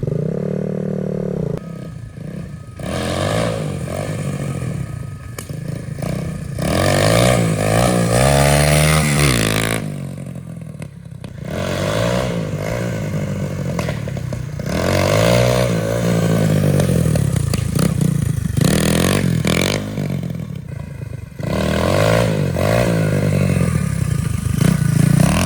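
A pit bike with a swapped 140cc engine revs hard in repeated bursts during wheelie attempts, each rise and drop in pitch loud and close, broken by brief pauses near idle.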